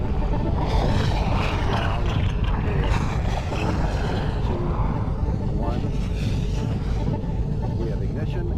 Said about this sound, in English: We have ignition and we have liftoff of NASA's Mars Climate Orbiter